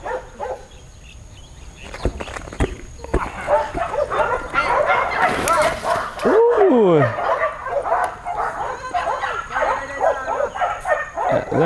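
Malinois dogs at a dog training center give scattered yips and short barks with a brief whimper, heard amid outdoor bustle and background voices.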